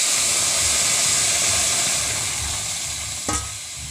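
Red lentils get stirred into fried onion and garlic in a pan, a loud, steady hissing sizzle that slowly fades, with one short scrape of the spoon near the end.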